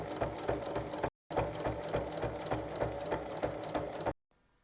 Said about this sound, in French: on surpique de chaque côté de la fermeture à glissière